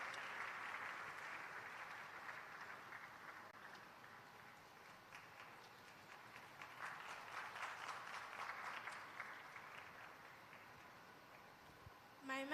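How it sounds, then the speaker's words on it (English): A conference audience claps continuously at an international health event, producing a soft, sustained patter of applause that stays fairly distant and even throughout. "Let's keep clapping for them as they come with the message."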